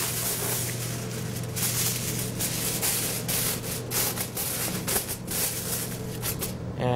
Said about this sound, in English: So now we're going to wrap this with a little bit of aluminum foil.